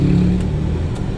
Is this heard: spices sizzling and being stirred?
no